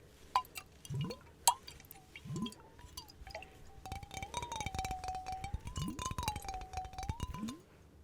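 Water drips into a water jar close to the microphone, giving sharp plinks and low bubbly plops over a faint, wavering, ringing tone that swells in the second half. The sound is quiet and intimate.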